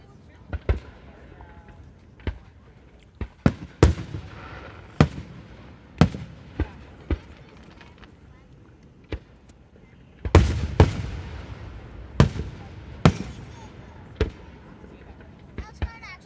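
Fourth of July fireworks from 2016 bursting outdoors, a series of sharp loud booms and cracks at irregular intervals, some in quick clusters, with people talking quietly between the blasts.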